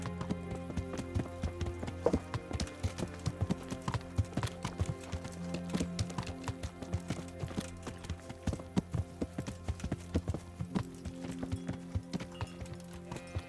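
Steady clip-clop of horse hooves at a quick gait in the video game Kingdom Come: Deliverance, rhythmic and continuous, with a faint musical tone underneath.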